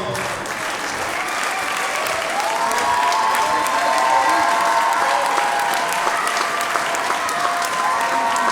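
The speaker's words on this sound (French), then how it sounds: "On peut les applaudir très fort." An audience at an urban circus and music show in Montpellier applauds and cheers performers, a loud, continuous roar of clapping with shouts and whistles rising through it.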